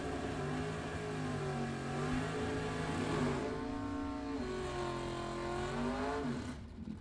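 A 1993 Ford Mustang with a 5.0 engine drag racing at a Super Pro bracket event, its engine note climbing in rising harmonic sweeps, dipping briefly, then pulling hard again before cutting off near the end.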